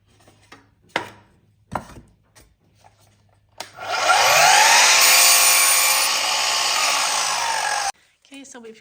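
Scattered knocks and taps of handling wood lead up to a power saw slicing through a wooden fence board for birdhouse parts, a loud, sustained whine lasting about four seconds that cuts off sharply.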